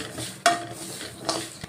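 Hot oil crackles and sizzles steadily as spices hit the pan, with a couple of sharp spatters standing out above the hiss.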